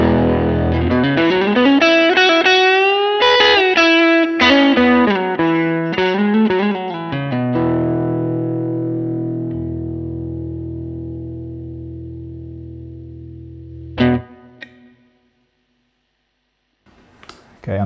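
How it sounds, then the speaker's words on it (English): An electric guitar plays through a Vyse Rebel amp with reverb, with a run of distorted notes and chords that ring out into a long reverb tail. A couple of brief plucks and clicks follow near the end. "Just with some reverb."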